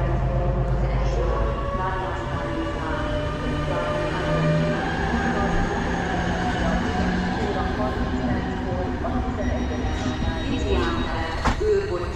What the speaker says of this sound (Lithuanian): České dráhy, čekų kompanijos traukinys išvažiuoja į Prahą